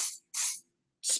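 Three short hissing bursts of spray onto a Real Techniques buffing makeup brush, close and crisp, separated by brief silences, with no talking.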